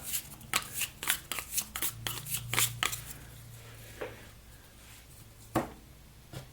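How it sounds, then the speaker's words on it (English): Board game cards for Robinson Crusoe are shuffled close up in a quick run of crisp riffles, then after a pause a single card snaps down, with no talking. "Give these a good shuffle."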